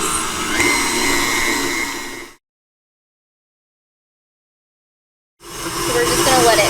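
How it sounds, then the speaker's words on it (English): An electric mixer whisks strawberry cake icing, a steady loud whirring that cuts out abruptly for a few seconds and then resumes. "So we're just going to let it whisk for a couple minutes here until it gets nice and airy."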